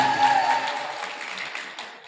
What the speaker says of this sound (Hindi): एक बार जोरदार तालियां डॉक्टर जुनैद खान साहब के लिए